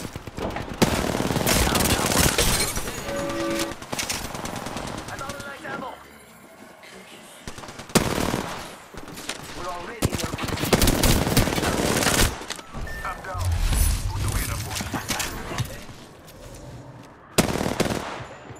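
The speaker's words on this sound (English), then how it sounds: "They're shooting at me. I'm taking fire." Enemy gunfire in Apex Legends: loud automatic bursts and scattered shots come in waves, with a voice talking over much of the action.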